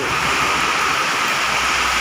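Heavy rain pours down during a thunderstorm, a dense, steady roaring hiss that fills the whole stretch with no pauses and no voices.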